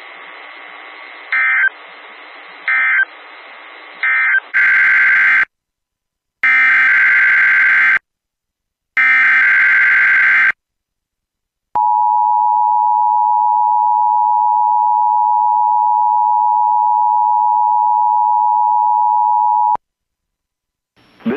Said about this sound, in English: The preceding alarm tone was a test of the public warning system on NOAA weather radio station KHP-39.